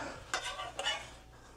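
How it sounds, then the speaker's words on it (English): A spoon stirs spinach into a lasagna filling with two short, soft scraping and squishing strokes close by and a quiet gap between them. "Just get that mixed together, okay?"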